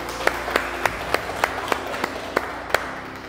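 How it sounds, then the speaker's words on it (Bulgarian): A small audience at a business event gives a brief round of applause, about ten distinct evenly spaced claps in a steady rhythm, fairly close and moderately loud. "аплодисменти за всички вас, които сте на време"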